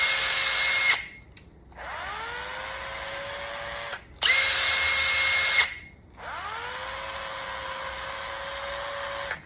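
Old brushed power drill, apparently found in a carpentry shop, whining loudly in two bursts with pauses between; each spin-up rises in pitch before settling into a steady motor drone, with no talk over it.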